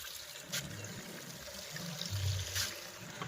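Water trickles and pours steadily into a container at a village home, a faint, continuous running stream with a few brief splashes and no voices.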